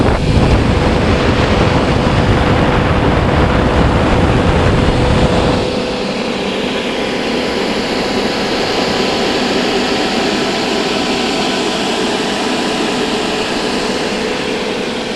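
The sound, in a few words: personal swamp cooler fan running off a 12-volt battery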